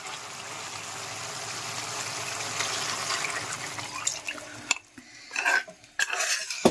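Coconut milk poured into a pot of old-style Kerala beef curry, a steady liquid rush that gives way to stirring clinks and scrapes of a utensil against the pot near the end.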